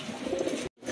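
A pigeon, one of a pair being sold, coos in a short soft burst up close, then falls silent for a moment before faint background returns.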